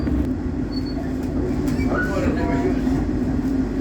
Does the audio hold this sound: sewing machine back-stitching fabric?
no